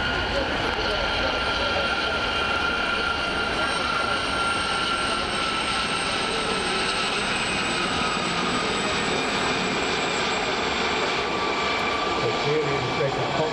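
Gazelle helicopters fly a formation display at an air show, their engines and rotors a steady, broad roar that stays loud and unbroken throughout.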